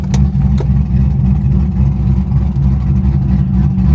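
Engine of a vehicle at an IAA salvage auction, either a Hummer H2 or a C5 Corvette with a manual clutch, idling with a loud, steady low rumble up close. Two brief clunks sound early as it is put into gear, and no one talks.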